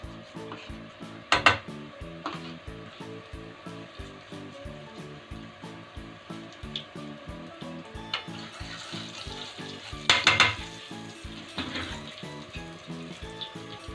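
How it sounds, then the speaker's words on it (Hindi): Asafoetida and carom seeds dropped into hot mustard oil in a kadai give a steady close sizzle, with a regular clatter of a metal spoon against the pan and a couple of sharper clinks, and no talk. "इसमें कड़वा तेल यूज़ करते हैं और अब डालते हैं सबसे पहले हींग। उसके बाद अजवाइन डालते हैं,"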